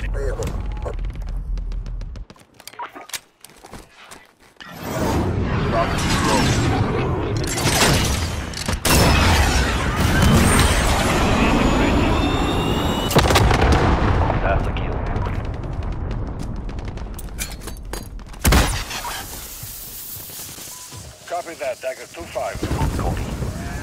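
A cruise missile strike in a first-person shooter, heard as sustained loud rumbling booms and mechanical roar with sharp blasts, mixed with overlapping radio chatter and game voices throughout.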